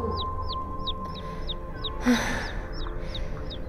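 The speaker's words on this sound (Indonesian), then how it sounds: "suara anak ayam itu terdengar cukup jauh" High, thin peeps of chicks chirping, heard from some distance, repeat at a steady pace, about nine calls in a row, fairly faint over a low background hum.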